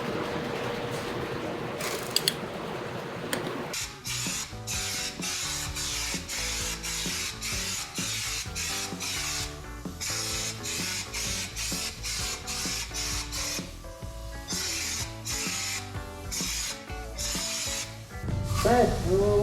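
A spray gun coats a surface with thick Herculiner undercoating during a restoration, giving a steady, loud hiss with rapid mechanical chatter that runs nearly the whole time after a short quieter start.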